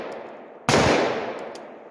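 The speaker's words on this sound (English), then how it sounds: "Now I'm going to shoot it with the light on." A single AR-15 rifle shot fired at night with an ACOG-scoped rifle: one sharp, loud blast that rings out into a long decaying echo, with no voices over it.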